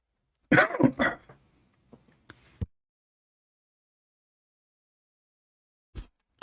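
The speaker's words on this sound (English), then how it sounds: "Sorry, I'm coughing." A burst of harsh coughing up close, followed by a few small throat sounds and one more short cough after a stretch of silence.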